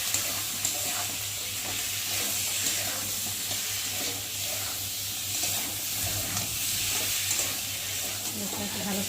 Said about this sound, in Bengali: দেব হলুদ আর দেব লঙ্কার গুঁড়ো দিয়ে মশলাটাকে ভালো করে কষাবো